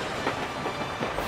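A train rolls along with a soft rhythmic clickety-clack in a Disney Dumbo storybook iPad game, a short and fairly quiet steady rumble.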